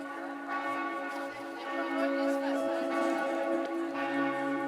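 Processed church bell samples from a track toll in layered, ringing strikes with long sustained overtones, heard clearly and moderately loud with effects shaping the tone.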